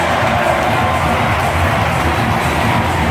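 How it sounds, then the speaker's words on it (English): A baseball stadium crowd at a Yankees–Twins game erupts after a home run, a loud, sustained roar of cheering that stays dense and even throughout. "Crowd goes wild."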